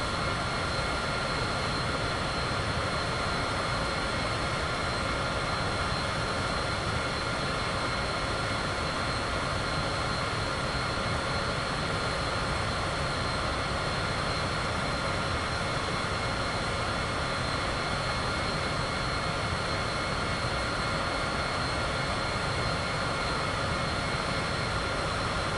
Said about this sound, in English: I thought I heard a plane like really close.